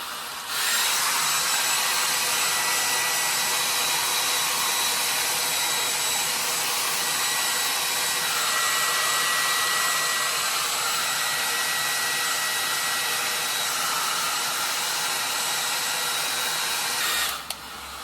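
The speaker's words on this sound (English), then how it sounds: "I'm just gonna blow dry my hair" A hair dryer blows steadily and loudly on someone's hair for about seventeen seconds. Its whirring hum shifts slightly partway through as it moves, and then it switches off.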